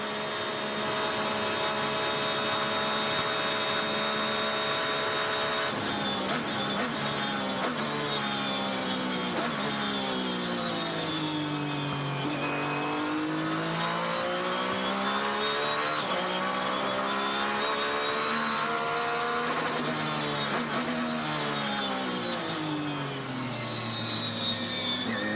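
An on-board race car engine at the 2007 Rolex 24, the 23 car, holding a loud sustained roar that climbs and falls in pitch through shifts and revs, close and continuous with no talk.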